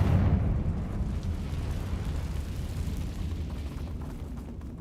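A deep blasting explosion from a Confringo spell in a Harry Potter video game bursts at the start, then a low rumbling tail decays slowly over several seconds.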